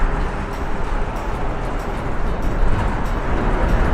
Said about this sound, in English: We've got a truck coming by.